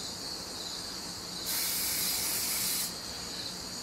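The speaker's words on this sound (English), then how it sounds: "we're going to spray them with non-stick" Non-stick cooking spray hisses in one short, steady burst of about a second and a half onto a Blackstone griddle, faint and close over a low background hum.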